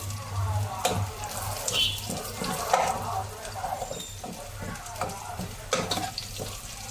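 Onions soften in hot oil as Maggi chicken stock goes in for a noodle dish, a low sizzle broken by stirring clatter and scrapes, with some running-water noise and a voice speaking over it nearby.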